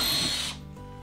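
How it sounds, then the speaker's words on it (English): A power drill fitted with a 1/8 inch bit bores a pilot hole into the middle of a wooden board, a loud close whirring burst for half a second that then winds down and stops. "I'm going to take my 1/8 inch drill bit, and then I'm going to go ahead and drill out my holes right here in the middle"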